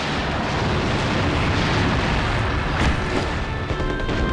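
A dynamite blast in Sniper Elite V2 fills the clip with loud, dense, broadband rumbling and roaring that stays sustained throughout without a clear pause.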